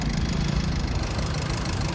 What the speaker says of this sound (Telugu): silent engine